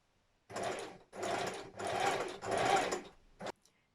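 A sewing machine understitches the pocket bag seam of skinny joggers, about 2 mm from the seam, in four sustained close bursts of whirring stitching separated by brief pauses, then a short final burst.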